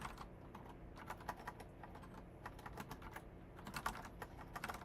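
Rapid typing on a computer keyboard during a coding session, a steady patter of fairly close key clicks with occasional louder strikes, no voices.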